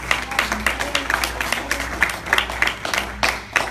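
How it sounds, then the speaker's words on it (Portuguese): A church congregation claps in scattered, uneven bursts during a Portuguese-language sermon, moderately loud and somewhat sparse rather than a dense roar, with faint voices mixed in. "Quem pode aplaudir ao Senhor por isso?"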